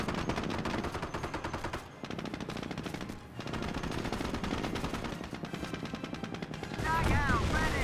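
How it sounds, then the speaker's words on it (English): MG42 machine gun fire rattles in long, rapid bursts through a Company of Heroes battle, dense gunfire with brief lulls, while a commentator talks over the action. "MG42 picked up by Stormtroopers."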